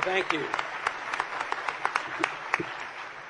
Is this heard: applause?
yes